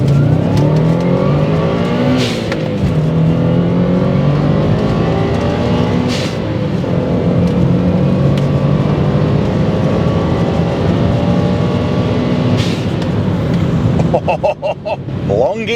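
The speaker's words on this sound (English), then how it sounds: "Driving the 3rd gen Legacy." Turbocharged Subaru Legacy B4 RSK, third generation, with all-wheel drive, pulls hard through long gears, its engine note rising steadily and loud from inside the car, with a brief drop at each gear change.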